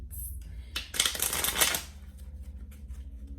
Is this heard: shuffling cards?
yes